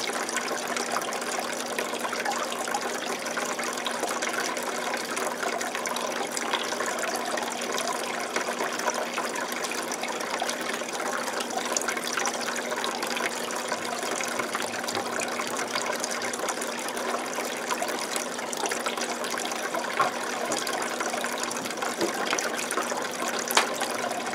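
Water drains steadily through an aquarium siphon hose from a 125-gallon planted tank into a shower stall drain, a constant, close gushing and trickling flow with no pauses and no voices.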